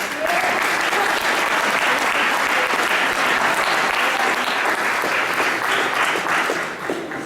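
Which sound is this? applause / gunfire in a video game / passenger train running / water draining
applause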